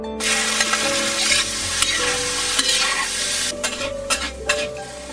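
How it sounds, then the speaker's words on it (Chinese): Scallion, ginger and garlic hit hot oil in a wok, giving a steady loud sizzle under scraping stir strokes, with a few sharper clinks of the spatula toward the end. "葱姜蒜爆香。"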